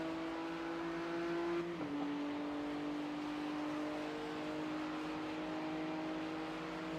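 GT3 race cars, a Ferrari and a BMW, run nose to tail through a section at Hockenheim in a racing game, a steady engine drone holding one pitch that dips slightly and settles, continuous and fairly quiet.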